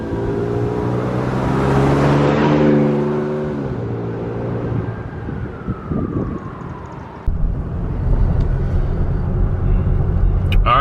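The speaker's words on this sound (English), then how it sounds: "All right, driving the Toyota Tacoma." A Toyota Tacoma pickup truck driving, its engine note rising as it accelerates, then dropping and settling into a steady road drone, heard loud from inside the cabin.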